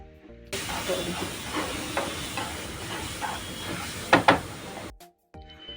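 Mango juice poured into roasted semolina in a hot pan bursts into a steady broadband sizzle and hiss, with a few sharp stirring clicks near the end before it cuts off abruptly.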